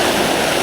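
A waterfall at Kaki Bukit Genting, Batang Kali, gives a brief, steady broadband rush of falling water, fairly loud and without voices.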